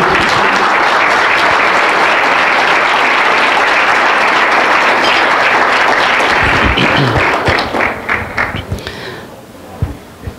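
A church congregation bursts into loud, sustained applause at a sermon, dense clapping filling the room before it thins out into scattered claps toward the end.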